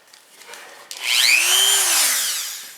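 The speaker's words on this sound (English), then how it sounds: "Get you a Dremel. Put some kind of good polishing compound on it." A Dremel rotary tool with polishing compound works on the sear of a Smith & Wesson M&P pistol, spinning up near and loud with a rising whine that holds steady for about two seconds.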